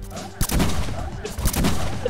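Egg launcher in the Roblox game Escape the Daycare fires two sharp, punchy shots about a second apart, each with a quick burst and short rumbling tail, loud and close, with brief voice murmurs between.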